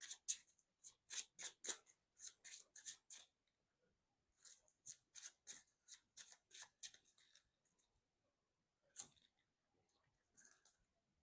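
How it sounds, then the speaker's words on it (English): Quick bursts of crisp papery riffling from a deck of game cards being shuffled, several in a row with brief pauses between, close and fairly faint. "we'll shuffle that into our deck first"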